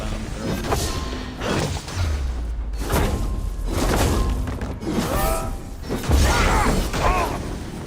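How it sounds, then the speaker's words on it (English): Bomb explosions thrown by enemies in Assassin's Creed Valhalla, a series of heavy thuds and crashing bursts spaced through dense combat noise with clanks and whooshes, loud and close. "another bomb throw"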